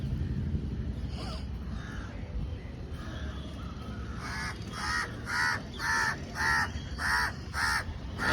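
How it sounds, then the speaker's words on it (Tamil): A crow caws repeatedly in a steady rhythm on a rooftop terrace, loud and fairly close, over a low rumbling background. "காக்கா வேலை வந்துருச்சு"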